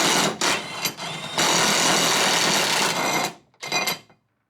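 Compact impact wrench working the U-bolt nuts on a 2004 light-duty truck's differential, loud sustained rattling bursts: a short burst, then a long run of about two seconds, cutting off before one brief final burst.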